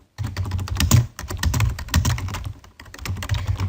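Steady, rapid keystrokes on a computer keyboard, close and fairly loud, with a brief pause partway through before the typing picks up again.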